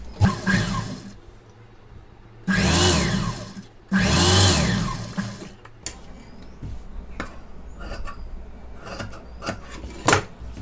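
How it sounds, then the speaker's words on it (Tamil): A sewing machine stitches a folded blouse belt in two loud, sustained whirring bursts, followed by quieter scraping and handling of the fabric, with no talking. "இப்போ தையல் போட்டுக்கலாம்"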